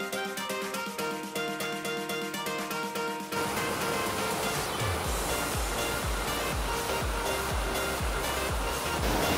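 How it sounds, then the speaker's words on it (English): Water roars steadily at Dark Hollow Falls in Shenandoah National Park in winter, a dense close rush with pulsing splashes, preceded by a few seconds of tonal music. "Okay, made it to Dark Hollow's waterfall."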